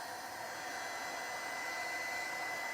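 A heat gun blowing hot air to dry rust paste on an old camera, a steady loud whirring blast held constant throughout with no talk.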